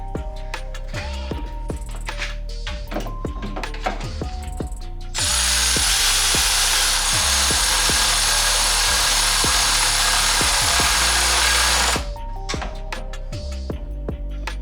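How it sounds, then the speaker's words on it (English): Bolts on a lower swivel coolant housing are tightened with a ratchet, giving quick clicking strokes on either side of a long, loud continuous whir from a power tool. "I'm just gonna tighten these bolts on the housing now while the plate is still on"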